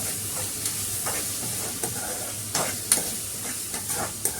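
Onions cooking in a pan for an egg curry, giving a steady soft sizzle and hiss of frying with occasional light scraping and stirring clicks, close by and with no voices.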